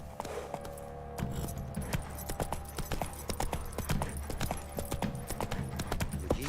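The horse Roach's hooves clip-clopping in The Witcher 3, a steady close trot of hoofbeats over a low game-world ambience with faint jingling tack, no speech.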